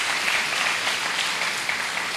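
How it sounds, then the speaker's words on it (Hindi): Audience clapping at a gathering, a steady dense wash of applause lasting a couple of seconds with no talk over it. "फिर से ताली बजाइए।"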